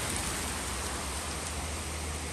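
Steady rain falling outdoors during a stormy morning with lightning, a dense continuous hiss of drops on surfaces, even and unbroken throughout with no voices.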